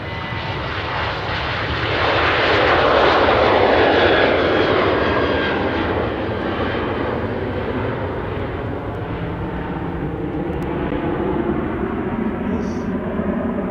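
WestJet flight 301 bound for Vancouver roars on departure, its jet engines swelling to a loud peak early on, then holding a broad, sustained rumble that slowly recedes.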